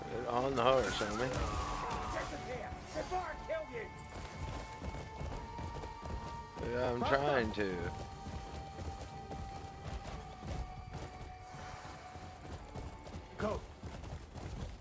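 Rhythmic hoofbeats of a galloping horse under game sound effects in Crimson Desert, with a brief whinny and someone talking over the action.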